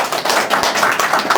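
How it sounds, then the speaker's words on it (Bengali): Steady audience clapping in a hall for a student being honored, dense and continuous with no talk over it. "আরেকটা হাততালি তার জন্য।"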